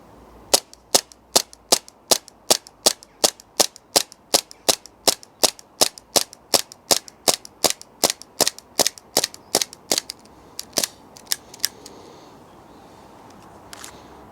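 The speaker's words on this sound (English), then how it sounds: "I've got a fully gassed up magazine, just set to dry fire mode, no BBs" Walther PPK gas blowback airsoft pistol dry firing with no BBs, a steady series of about thirty sharp, loud snapping cracks at a regular rhythm, slowing and thinning out toward the end as the gas drops.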